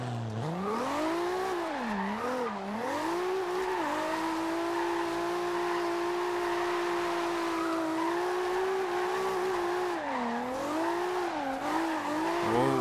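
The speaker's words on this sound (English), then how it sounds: "Can't you see I'm drifting?" A Toyota Supra drifts in Forza Horizon 2, its engine droning steadily while a high tire squeal rises and dips through long slides, loud and continuous without speech.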